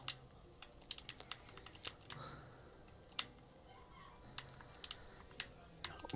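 Quick, irregular clicks of an Xbox controller tapping out text in Minecraft Bedrock sound close and faint over a quiet game background.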